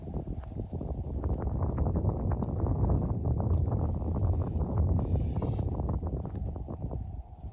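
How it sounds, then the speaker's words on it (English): Strong gusting wind by the sea buffeting the microphone, a continuous low rumble that swells and eases without letting up. "It's a bit windy today, right? Very windy."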